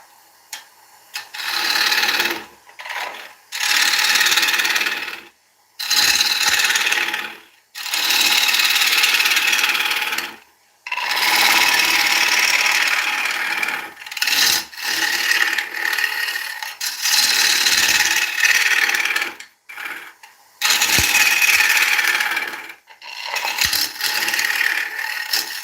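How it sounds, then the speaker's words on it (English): An oak bowl is hollowed out on a wood lathe in loud, close bursts of rasping, scraping cuts. Each burst lasts a few seconds, with brief silent breaks between them, and no one talks. "let's get this bowl hollowed out."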